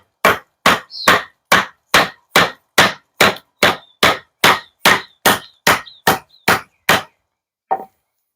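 TKELL Mercenary fixed-blade knife being hammered through a fairly thick piece of wood, about sixteen sharp, evenly spaced hard knocks in steady rhythm, close and loud, then a pause and one last lighter strike.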